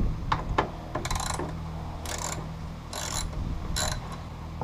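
A ratchet turns a 10mm socket on an extension, loosening the tail light bolts on a Nissan 350Z Nismo. Several quick bursts of close, loud ratcheting clicks are separated by brief pauses, with no talking.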